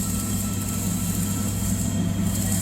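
A polyurethane dispenser machine for car air filters runs with a steady, loud mechanical drone and deep hum, holding constant throughout with no talking heard.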